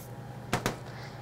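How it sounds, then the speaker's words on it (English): Two quick, quiet hisses of a cooking spray can onto baking pans in close succession against a low background hum. "Just spray the pans."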